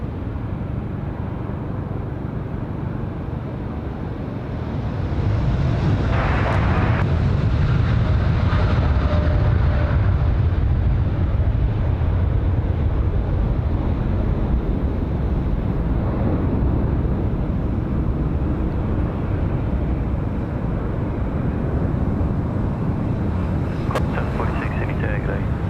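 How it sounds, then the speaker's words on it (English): A Boeing 787 Dreamliner jet departs Sydney Airport at night. A steady roar swells after a few seconds and holds loud and broad for the rest of the clip, with faint voices in the background. "Another nice departure from the Dreamliner there."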